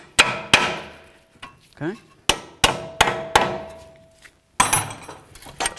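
Metal hammer strikes on the front strut bolts of a 2010-2015 Kia Sorento during a strut replacement, a series of sharp, loud, separate knocks with uneven spacing and a brief spoken word between them.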